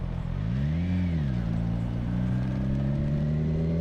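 A Kawasaki Ninja 1000SX motorcycle cruises with a smooth, steady engine hum that briefly rises and dips in pitch before settling, heard continuously from the rider's position with muffled wind noise.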